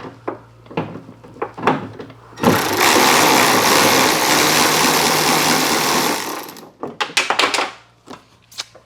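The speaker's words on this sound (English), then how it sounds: "I'm gonna go ahead and start taking out those two screws." A power tool runs for about four seconds on a 2012 Mazda Miata NC door, backing out a screw with a loud steady whir. Sharp clicks and knocks from handling come before and after it.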